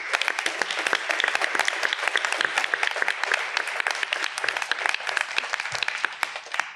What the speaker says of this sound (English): I'd like you all to give you another round of applause